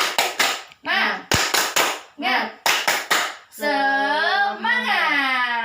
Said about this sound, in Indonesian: Kita mau tepuk semangat dulu sebelum mengakhiri pembelajaran kita